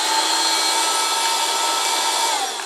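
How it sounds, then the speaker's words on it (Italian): A modified electric vacuum cleaner fitted with a jar, used as an insect aspirator, runs with a steady, loud, unbroken whine and airy hiss, close by and alone with no voices. "Praticamente è un aspirapolvere che ho modificato con un barattolo"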